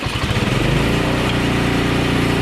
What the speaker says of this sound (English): I wanted to restart this engine just after I stopped it, all I should really have to do is turn the switch back to on, adjust my throttle, and pull